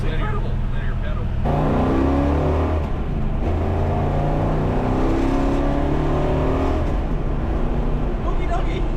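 A Hemi-powered Plymouth Superbird accelerates hard, its engine rising in pitch through several gear pulls with a deep, loud throaty roar from inside the car, while occupants talk over it.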